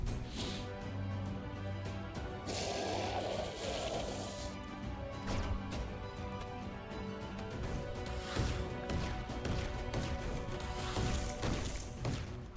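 A poison explosion effect bursts in the tower-defense game Emberward, a dense crashing blast over steady game music and layered combat noises, followed by repeated sharp impacts toward the end.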